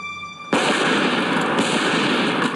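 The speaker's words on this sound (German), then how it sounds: "Ich habe Schüsse gehört." A sudden loud burst of gunfire-like cracking starts abruptly and continues as dense, harsh noise for about two seconds.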